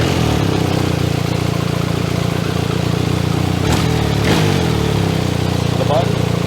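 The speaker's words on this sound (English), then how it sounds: "So we'll go ahead and we'll start the bike when it's closed." Motorcycle with a Dr. Jekill & Mr. Hyde Nomad S electronically controlled exhaust, valve closed, idling with a steady, even low rumble throughout and a couple of brief sharper revs or clicks partway through.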